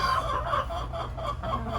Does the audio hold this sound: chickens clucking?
yes